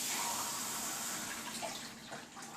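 Hot water pours steadily into a cooking pot of beef stew on a low gas flame, a continuous hissing splash heard up close with no one speaking.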